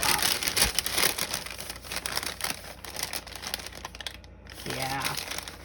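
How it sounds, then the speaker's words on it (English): Brown paper lunch bag crinkling and rustling up close as it is opened and handled, a steady papery crackle through most of the stretch with a brief lull, a voice talking over it near the end. "I mean brown paper lunch bags. Okay. First of all, I'm going to open it up."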